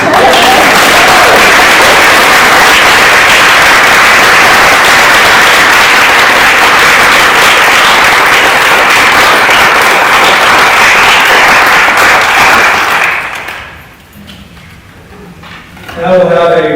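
Sustained, loud applause from a gathered audience at a memorial celebration of life fills the room for about thirteen seconds, then fades quickly into quiet room noise.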